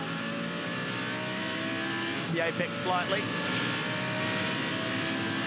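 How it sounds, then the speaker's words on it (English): Onboard a V10-powered GT race car during the 2015 Australian GT Championship race at Adelaide, the engine drones steadily at high revs with a brief gear-change surge midway, while a commentator talks over it. "Beautiful V10 engine."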